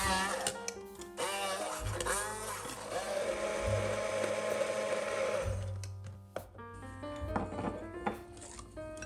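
Blender whirring as it purees strawberries for waffle batter, a steady close motor drone with clattering jar sounds, lasting several seconds before stopping, no talking.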